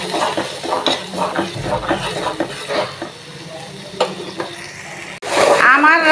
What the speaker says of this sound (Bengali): তখন এইদিকে আমি আর একটু পানি দিয়ে দেবো কষানোর জন্য।